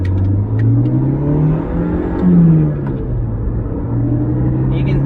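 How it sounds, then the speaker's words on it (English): A supercharged 1988 Toyota AW11 MR2 engine revs up and settles back with a rising and falling supercharger whine, close and loud, holding a steady rumbling idle between pulls. "You can hear the presence of the supercharger."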